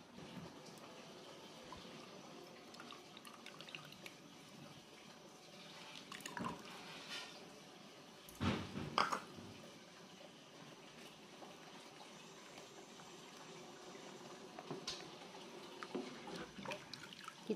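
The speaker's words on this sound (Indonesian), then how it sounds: "kemudian kita masukkan airnya" Water poured into a pot of crab tamarind soup (asem-asem rajungan), a low steady liquid wash with a few louder splashy bursts midway, close and moderately faint.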